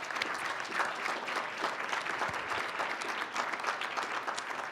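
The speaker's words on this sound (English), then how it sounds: "Let's give them one more round of applause." A seated audience at a lecture on Arctic warming applauds the panelists, with steady, moderately distant clapping of even density throughout and no talking.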